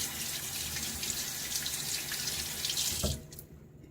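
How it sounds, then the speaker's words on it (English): Water runs steadily from a tap at close range while shaving lather is prepared with a boar hair brush, a bright continuous splashing flow that cuts off abruptly near the end. "I want to add just a little bit more water."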